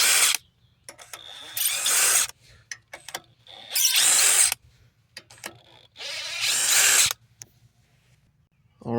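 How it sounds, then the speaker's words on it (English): An impact driver rattles out the mounting bolts on a Briggs & Stratton single-cylinder engine during a stator swap, three loud hammering bursts of about a second each with quiet handling clicks between them. "now I'm just pulling them out quickly with the impact"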